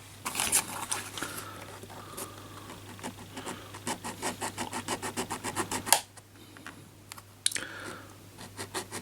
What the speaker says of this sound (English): Or we'll file rather than sand.